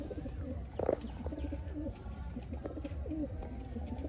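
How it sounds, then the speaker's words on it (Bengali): A Kaldam pigeon, about eight or nine years old, gives soft rolling coos close by over a low steady background, with a brief louder rustle near the start. "এই দেখুন এটা হচ্ছে আপনার কালদম পায়রা, 8-9 বছর বয়স আছে"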